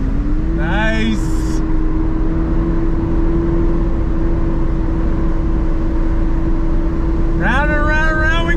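A 2022 Toyota GR86 sports car slides its rear out on throttle. Its engine holds a steady, loud, close droning whine throughout, and a voice whoops excitedly at the start and again near the end.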